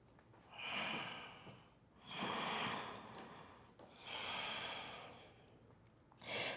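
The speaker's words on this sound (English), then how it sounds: "breathe here." Slow, deep breaths taken while holding a yoga pose, three long airy exhalations at an even pace, close and soft.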